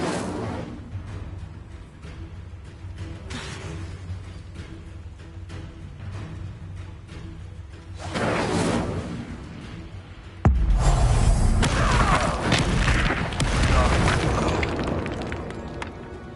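The Incendio fire spell cast in Hogwarts Legacy bursts into a loud fiery boom and roaring whoosh that swells, then holds as a dense rushing blaze, following quieter game ambience.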